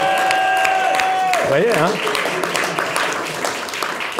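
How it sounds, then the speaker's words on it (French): Studio audience applauding a guest at the close of a French TV talk show, steady clapping that swells after someone speaks and continues beneath further talk. "on peut applaudir, évidemment,"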